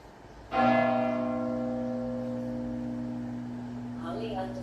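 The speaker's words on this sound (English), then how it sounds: "12 o'clock is when the bells go off, so you'll probably be hearing bells soon" Church bells strike at noon near a balcony during an Airbnb cleaning, a single loud onset with a long, rich ringing hum that sustains and slowly decays, with faint background activity near the end.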